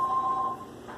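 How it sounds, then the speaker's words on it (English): A telephone in a house gives a steady electronic ringing tone with faint beeps for about half a second, then cuts off, leaving quiet room noise. "And that's a phone ringing."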